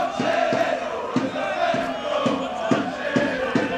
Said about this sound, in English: in front of the boisterous Cardiff Met crowd